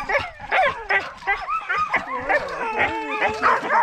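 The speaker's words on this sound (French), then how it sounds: "des vrais chiens de traîneau en Arctique" Several sled dogs in the Arctic bark and yip close by, mixed with high whimpers and whines, a busy overlapping chorus with a person speaking softly underneath.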